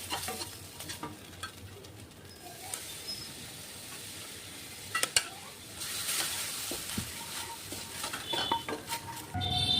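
Flour roasts in a pan for white sauce as milk is added a spoonful at a time, a utensil stirring and scraping against the pan over a soft sizzle, with occasional clinks.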